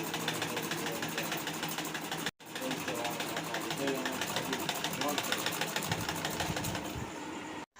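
Domestic sewing machine stitching two kurtis, a rapid, rhythmic mechanical whir with a fast even stitch pulse, close and continuous apart from a brief stop, with a voice talking over it.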